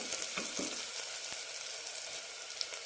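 Coriander, turmeric and chili powders frying with cooked tomatoes for a beetroot curry, a steady bright sizzle close by with a few soft scrapes, no voices.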